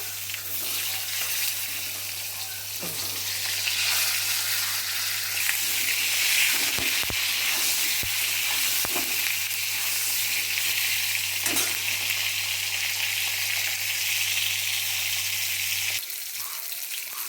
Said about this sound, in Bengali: পটলগুলো লাল লাল করে ভালোভাবে ভাজা হয়ে গেছে